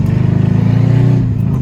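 A Mercedes-Benz CLS fitted with a straight pipe exhaust revs loudly up close, its deep, rumbling engine note held high and steady with a brief dip near the end.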